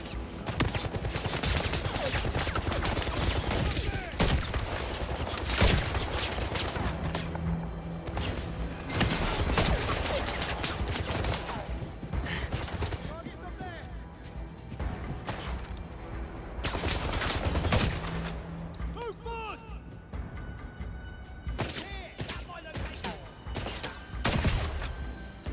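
Gunfire in the video game 007 First Light, with loud bursts of shooting and fusillades recurring through a busy, dense action soundscape.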